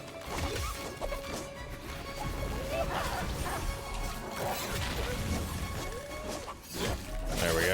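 Dog enemy in the video game Savara, barks and yips breaking through a busy battle mix of crashes and whacks, loud and close amid steady combat noise.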